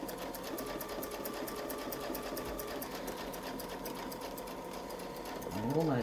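A sewing machine stitches a quilt guided by a Westalee ruler template, its steady fast needle rhythm running continuously and close, picking up slightly at the end.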